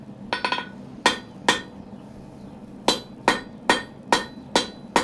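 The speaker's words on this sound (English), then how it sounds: "He'll hear the hammering." A blacksmith hammering hot steel at the forge: a quick cluster of light taps, then a slower series of about eight loud, ringing metallic strikes, evenly spaced and close up, with no talking.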